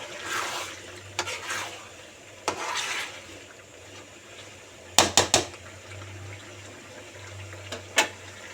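A spoon scrapes across the bottom of a pot of Bangladeshi beef bhuna as it is stirred, producing intermittent gritty scrapes and sharp metallic clinks, close and fairly quiet, with a low hum underneath.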